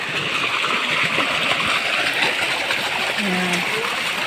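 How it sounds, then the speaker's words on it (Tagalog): Strongly flowing spring water rushes and splashes steadily and loudly, with a person talking over it. "Sobrang lakas ng tubig."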